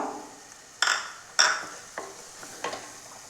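A spoon stirs and mashes chopped tomatoes and sliced green chilies in a pan, several sharp scraping clacks against the metal at irregular intervals over a soft low sizzle, with no talking.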